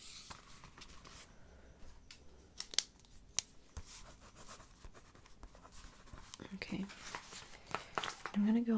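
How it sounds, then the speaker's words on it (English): A pen scratches out a measurement on paper during a Halloween costume fitting, with soft, close scribbling strokes under quiet whispered talk and light rustling. "Let me write that down."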